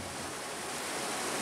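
Cold lahar flood from Mount Semeru surging down the Leprak river in Candipuro, Lumajang, East Java, a dense, steady rushing roar of fast water, broadband and unbroken, without voices.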